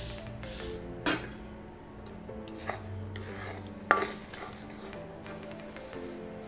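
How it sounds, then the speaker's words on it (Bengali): Sesame seeds being stirred into melted jaggery in a pan, a continuous scraping and rasping with occasional sharper clinks of the spoon against the pan, close and moderately quiet. "আর এটাকে গুড়ের সাথে ভালোভাবে মিশিয়ে নেব বন্ধুরা"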